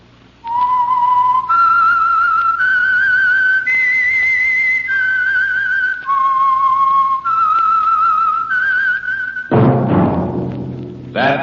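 A clear, loud whistled tune of sustained notes stepping up and down, played alone, ending with a brief burst of other sound; the signature whistle of the old radio drama The Whistler.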